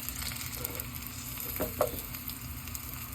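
Steady soft sizzling of oil in a pan while cooking a crispy vegan breakfast burrito, with a couple of brief scraping clinks as the pan is moved, fairly quiet and without talk.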